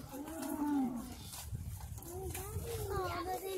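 Cows in a meadow give several long, drawn-out moos that overlap and rise and fall, some close and some farther off, with faint human voices in the background.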